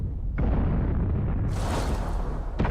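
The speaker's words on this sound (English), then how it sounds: "And there is another tank destroyed there" A tank is destroyed in World of Tanks during a tier 10 artillery battle, a loud rumbling explosion with a sharp onset that roars on for a couple of seconds before a final burst at the end.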